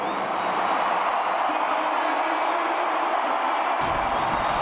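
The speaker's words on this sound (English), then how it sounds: "listen to this crowd, listen" A large arena crowd roars at a Monster Jam freestyle truck show, a loud continuous wash of cheering and yelling that holds steady throughout, then shifts slightly near the end.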